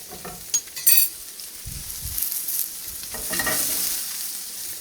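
Bacon sizzles in a pan, with a few sharp clatters and scrapes from a spatula pressing and stirring over a soft, steady frying hiss.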